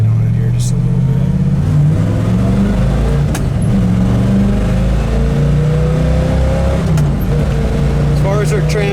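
A 1962 Chevrolet Bel Air engine revving as the car accelerates, a loud steady drone with pitch rising, heard from close by with talk faintly underneath.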